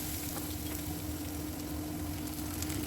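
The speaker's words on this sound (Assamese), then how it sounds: "আৰু এতিয়া ইয়াত মই দিছোঁ আদা নহৰু পেষ্ট, একদম চিম্পলকৈ বনাইছোঁ।" Ginger garlic paste sizzles in a pan with onions fried golden brown, a steady, even frying hiss with a faint stirring texture throughout, moderately quiet and uninterrupted.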